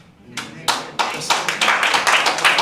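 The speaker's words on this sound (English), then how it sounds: "I don't want no clapping." Audience members clap at a borough council meeting, a string of sharp, evenly spaced handclaps starting after a brief pause and building into quick steady clapping, close and loud.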